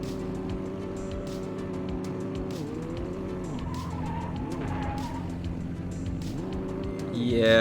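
A rally car racing on a Poland stage in Ravenfield: a steady loud engine drone with shifting revs and long squealing tire skids through a turn, the engine surging louder at the end.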